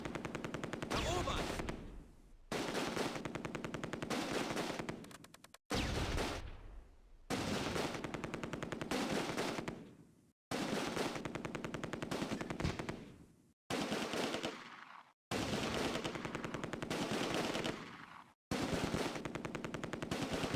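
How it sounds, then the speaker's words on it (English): MG42 machine gun fire in the World War II game Close Combat: A Bridge Too Far, Nijmegen city battle: loud, sustained rapid bursts of automatic fire, several long strings separated by brief pauses, with no talk. "An MG42 opens up from my left flank."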